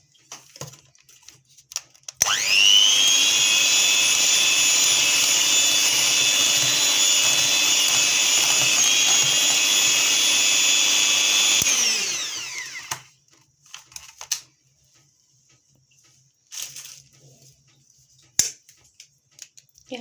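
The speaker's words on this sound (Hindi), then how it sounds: "ये हमने तीनों अंडे इसमें डाल दिए, फिर बीट करेंगे।" Electric beater whipping eggs for an oven-free bakery-style fruit cake batter, a loud steady high whine running about ten seconds alone before cutting off, followed by a few faint clinks.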